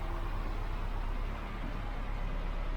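Ford Cortina Mk3 engine idling unevenly during carburettor tuning, a steady low rumble close by with a slight wavering hunt in level, no voices heard.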